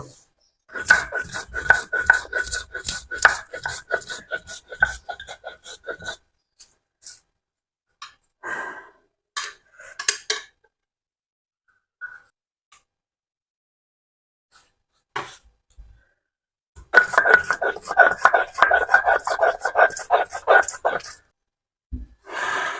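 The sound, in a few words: grinding spices by hand on a grinding stone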